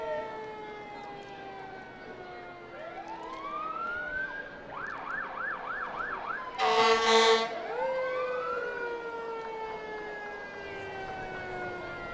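Gold Cross ambulance siren at the Waupaca Hometown Days Fourth of July parade, wailing and then yelping in rising sweeps with a short blast of air horn, heard at moderate distance and growing louder.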